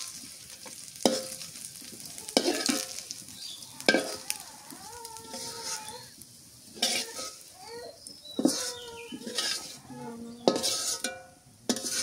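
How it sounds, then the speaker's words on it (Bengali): River fish fries in a pan with a soft, steady sizzle, broken by repeated scraping and clinking of a utensil stirring against the metal, with no voices. "মাছ ভাজা হয়ে গেছে।"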